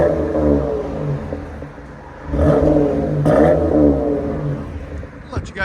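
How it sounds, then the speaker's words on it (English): A 2022 Dodge Durango GT with a 3.6L V6 and resonator delete revs up repeatedly, a throaty exhaust rumble swelling and hitting the rev limiter, close by, with voices talking over it. "Damn rev limiter."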